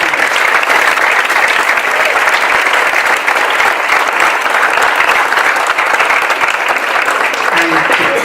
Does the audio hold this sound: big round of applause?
yes